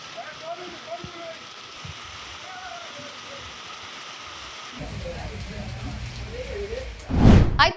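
Heavy rain pours during a thunder rainstorm in a city, a dense, steady hiss throughout that grows louder near the end with a sharp loud burst.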